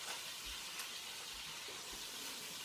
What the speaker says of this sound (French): Lorsqu'elles auront bien rissolé la pièce de viande